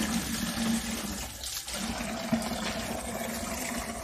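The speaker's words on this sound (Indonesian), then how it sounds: "Saya nyalakan dulu pompa airnya." A water pump runs on a livestock farm in Kertayasa, Kramat, Tegal, filling water for goats and Muscovy ducks: a steady, fairly loud rush of flowing water with a constant hum throughout, no talking.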